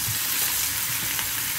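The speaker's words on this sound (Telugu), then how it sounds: "ఇప్పుడు మనం కట్ చేసి పెట్టుకున్న టమాటా ముక్కలు కూడా వేసేస్తున్నాం" Chopped tomato pieces hit hot oil and spice paste in a pan for a potato, drumstick and tomato curry, giving a steady close sizzle and frying hiss throughout, with no voices.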